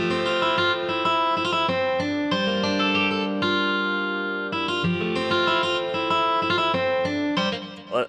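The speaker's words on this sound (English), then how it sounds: "And the guitar sound like this." Electric guitar run through a free software plugin with distortion and a low-pass filter, giving an ambient, effected tone; chords and picked notes play steadily and fairly loud for about eight seconds, alone with no voices.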